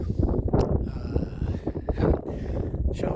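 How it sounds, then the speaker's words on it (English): Wind gusting hard across a New Mexico mountaintop, buffeting the microphone in rough, low, rumbling rushes that surge and ease several times, close and loud with no talking. "Wind's really blowing up here"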